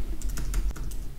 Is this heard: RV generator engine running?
no